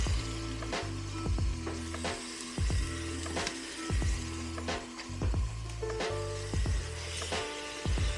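Lamb chops sear in a hot Instant Pot, giving a steady broadband sizzle with rhythmic louder bursts and clicks as the meat is laid in and shifted, fairly close, no talking.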